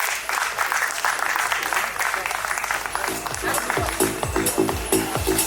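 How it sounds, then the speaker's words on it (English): Conference audience at an HR and technology summit breaks into sustained applause, with voices over the clapping and a thumping music beat joining in the second half. "Come on, you guys can clap"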